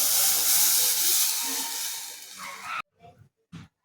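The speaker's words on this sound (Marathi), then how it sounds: "आता आपण जे मिक्स करून घेतलं आहे ते टाकून द्यायचं" Mixed kadhi batter is poured onto a hot hing tempering, setting off a loud broad sizzle and hiss that slowly fades, then breaks into a few short scraping sounds.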